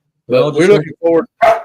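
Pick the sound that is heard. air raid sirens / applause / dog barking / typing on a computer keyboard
dog barking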